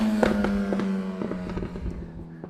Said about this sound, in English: We've got some cars driving by. I know it's a little bit noisy.